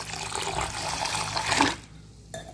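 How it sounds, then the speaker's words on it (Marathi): Lentils being rinsed in clean water, with steady splashing and sloshing up close for most of the span, then a brief pause before the water sounds return. "आता 3दा स्वच्छ पाण्यात धुवून घेऊया"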